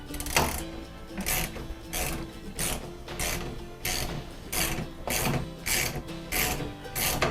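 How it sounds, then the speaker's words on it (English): A ratcheting gear wrench loosening a bolt on a Dewalt DWX726 rolling miter saw stand, a rapid run of close mechanical clicks in rhythmic swings, about a dozen strokes with no talk. "the great thing about these wrenches are, say you would need to untighten it, all you would do, flip it back the other way"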